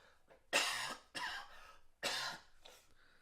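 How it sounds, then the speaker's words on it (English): Three harsh coughs burst out close by in quick succession, with short pauses between them. "I told you I was gonna have a coughing attack"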